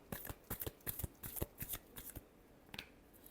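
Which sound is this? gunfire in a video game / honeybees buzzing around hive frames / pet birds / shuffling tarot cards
shuffling tarot cards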